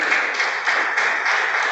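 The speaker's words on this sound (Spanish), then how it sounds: "Dale un aplauso al Espíritu Santo" A church congregation claps together in a dense, continuous wash of applause that stays fairly loud and even throughout, with no voices rising above it.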